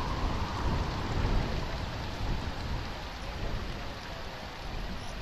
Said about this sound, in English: If you get out of the rain, you're fine.